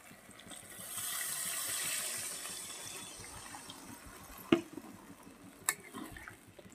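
Water poured into a cooking pan of meat, a rushing splash that swells and fades over a few seconds, followed by two sharp clinks of utensils against the pan.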